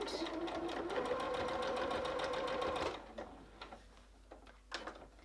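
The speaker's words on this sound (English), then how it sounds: "I'm going to stitch that one the same 1 centimeter with a reverse at the beginning and the end." A sewing machine stitches a 1 cm seam for a pet bed floor cushion, beginning with a reverse stitch. A steady, close, rapid needle chatter runs for about three seconds, then gives way to quieter ticks and handling clicks.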